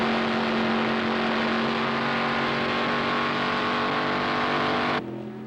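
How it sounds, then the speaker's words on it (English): A Goodrich Corvette race car at the 1973 Le Mans 24 Hours, a loud sustained engine drone holding steady at speed, then dropping abruptly in level near the end. "The Goodrich Corvette is capable of speeds of over 200 miles an hour on the Mulsanne Straight."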